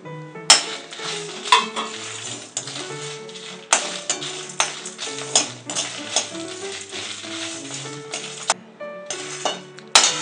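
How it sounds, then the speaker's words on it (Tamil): Whole spices such as coriander seeds, fennel, cinnamon, cloves, cardamom, star anise and dried chillies are dry-roasted in an empty pan, rattling and scraping in close bursts as they are stirred, with clinks of the utensil. "வெறும் சட்டியில் வறுத்துக்கிறோம்"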